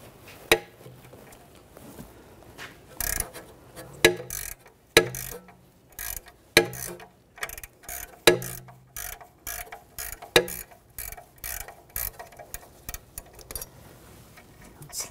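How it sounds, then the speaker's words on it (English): A 16 mm ratchet wrench clicks as it turns a stud on the rear forward upper control arm of a 2006–2010 BMW 550i, with close, uneven bursts of ratcheting and metallic knocks and no talking. "I'm gonna use a 16 millimeter ratchet wrench and a 7 millimeter wrench to keep the stud from"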